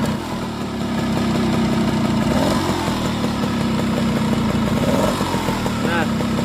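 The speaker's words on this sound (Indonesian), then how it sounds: "Nah, untuk suara mesinnya seperti ini." A 2001 Yamaha Sigma two-stroke underbone motorcycle idles close up, a steady buzzing, slightly rattly engine note with a couple of small blips, running continuously under a voice talking.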